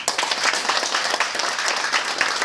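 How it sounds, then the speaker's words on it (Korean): A lecture audience at a leadership academy gives a dense, steady burst of applause to welcome a screenwriter onstage, many hands clapping close together and loud, with no talk over it. "뜨거운 박수로"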